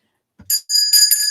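A bright bicycle-style bell rings in several quick metallic dings after a soft thump, loud and close, with no talking over it; it is used as a notification bell sound effect.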